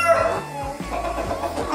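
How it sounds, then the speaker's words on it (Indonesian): Several Pelung chickens cluck and call close by in overlapping, harmonic tones, a busy, continuous chatter from the flock. "Ini ayam pelung semua."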